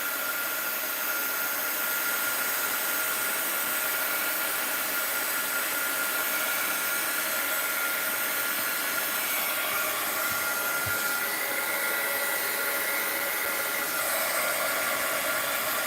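A blow dryer drying an animal gives a steady, close, unbroken whir with an even airy hiss that holds level throughout, with no voices.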